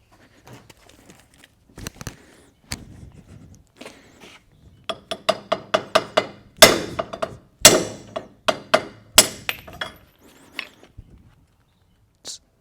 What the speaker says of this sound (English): we'll get a brass drift on him, and we'll pop him out